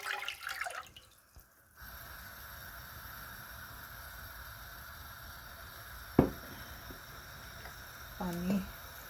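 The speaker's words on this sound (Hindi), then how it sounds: "पहले हम इसमें पानी डालते हैं।" Water pours steadily into a pot to start Kashmiri pink tea, a continuous hiss-like stream with a few clanks and a splash near the end, heard close up.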